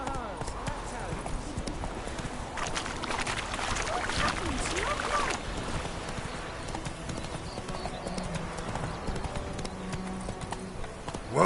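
Hooves of Roach, the horse in The Witcher 3: Wild Hunt, clip-clop steadily on the ground throughout, in a dense continuous gait pattern with game ambience beneath and voices speaking over it.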